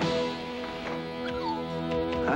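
A dog in a 1990 TV commercial yips and whimpers a few times over a steady musical bed, close and fairly loud.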